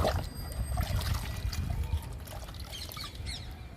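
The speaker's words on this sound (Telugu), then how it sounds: "ఎడేనియంకి లిక్విడ్ ఇస్తున్నా." Homemade liquid fertilizer poured onto a potted adenium plant makes a close, uneven trickle and splash that tapers off, with faint birdsong in the background.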